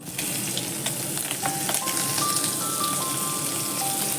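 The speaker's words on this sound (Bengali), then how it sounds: "মাছগুলো ভাজা হয়ে গেছে, বেশি ভাজবো না, তাই এবার এটাকে তুলে নেব।" Fresh shrimp fry in hot oil in a pan, giving a steady, close sizzle with light crackling throughout and a few faint tonal beeps.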